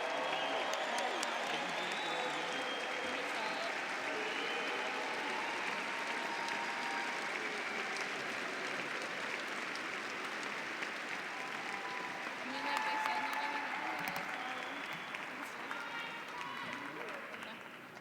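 Sustained audience applause with scattered whoops fills a university psychology commencement hall for the 2016 graduating class, a dense, steady wash of many hands clapping that fades slightly toward the end.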